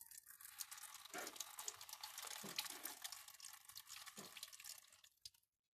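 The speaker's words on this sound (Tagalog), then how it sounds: "Ayan, mahina lang yung tubig natin." Gentle tap water runs and splashes over a loudspeaker driver cone being rinsed before soap washing, a steady close trickle with brief louder splashes and drips, no voices, cutting off near the end.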